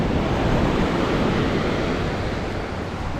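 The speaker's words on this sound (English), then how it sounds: "Pacific Ocean right there." Steady Pacific Ocean surf rolling onto the shore beside the Pacific Coast Highway, a loud continuous wash of breaking waves mixed with wind noise on the microphone, no voices.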